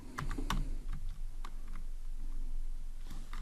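Close, steady typing on a computer keyboard: a brisk run of clustered keystrokes with a few louder clicks, continuing throughout without voices.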